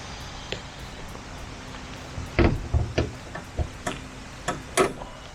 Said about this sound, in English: Let's pop up the hood.